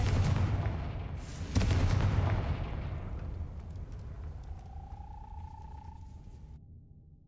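A Confringo fire spell in Hogwarts Legacy goes off as two heavy, booming blasts early on, then a long rumbling decay with a faint rising whistle-like tone near the end.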